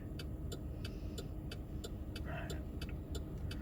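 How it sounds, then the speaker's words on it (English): Road traffic in Irondale, Alabama: a steady low rumble of passing cars and engines, with regular faint ticking clicks and a brief higher whine near the middle. "I hate traffic"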